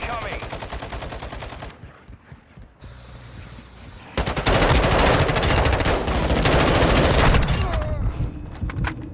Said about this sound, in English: I was shooting him through the wall